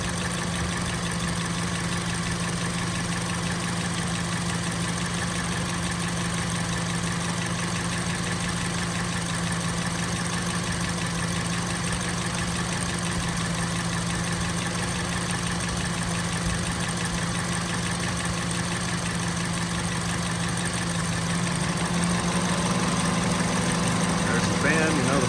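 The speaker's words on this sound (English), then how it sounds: "So I'm just gonna kind of hover here over the engine so you can listen to it." A 2005 Honda CR-V EX AWD with low miles idles smoothly and steadily, close up from above the open engine bay, with a constant even hum and a slight rise near the end.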